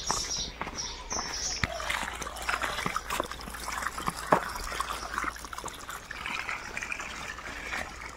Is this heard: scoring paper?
no